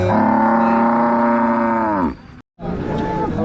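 Cattle at the Modnimb livestock market in Maharashtra, where cows are traded, give one long, loud, close moo lasting about two seconds, then a short break before more lowing noise.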